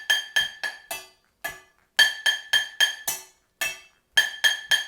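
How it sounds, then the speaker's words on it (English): A small pan struck with a wooden spoon as a kitchen instrument gives bright, ringing metallic clinks, played alone in short rhythmic bursts of three or four hits with brief pauses between. "my last instrument is a small pan and a wooden spoon"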